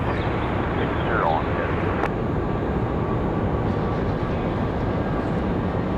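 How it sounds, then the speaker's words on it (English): A United Boeing 737 MAX 8 departs Raleigh-Durham airport for San Francisco, heard as a loud, steady broadband jet roar that fills the whole stretch with little change in level. "United 1769, a 737 MAX 8 off to San Francisco."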